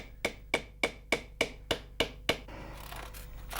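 Eight sharp, evenly spaced hammer blows drive nails that fix hoops onto a small wooden cask carved from a tree trunk, each strike crisp and close, followed by softer scraping handling noise.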